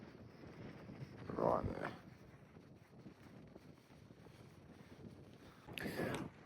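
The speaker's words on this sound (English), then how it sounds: "It is super windy up here" Gusty wind buffets the microphone in rough bursts on the summit of Mt Kosciusko, Australia, with a voice speaking briefly over the roaring rush.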